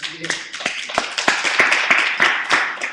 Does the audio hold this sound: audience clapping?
yes